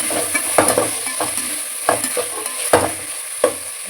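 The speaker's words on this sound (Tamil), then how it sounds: "புதினாவும் போட்டு தக்காளியும் நல்லா வதங்கணும்" Tomatoes and ginger-garlic paste frying in a pan for chicken biryani, a loud close sizzle broken by regular sharp scrapes of a spoon stirring every half second or so.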